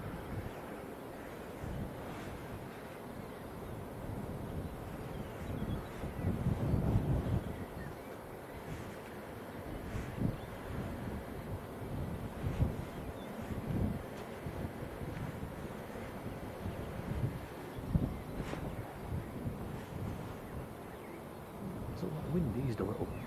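Steady wind rushes and buffets the microphone at Manchester Airport, with gusts rising and easing in a constant broadband roar and occasional low thumps.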